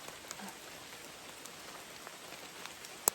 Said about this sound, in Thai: ฝนตกเริ่มหนักแล้วพี่ เดี๋ยวหาที่หลบฝนก่อนแล้วกัน